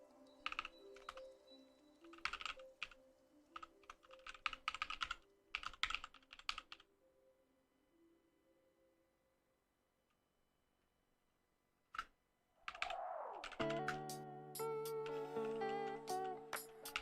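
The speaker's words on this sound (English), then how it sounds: "This keyboard's hard to use." Keyboard typing during work on an embedded Linux build for a Raspberry Pi: bursts of quick clicking keystrokes in the first seven seconds, then a quiet pause, followed by louder tonal music-like sounds at the end.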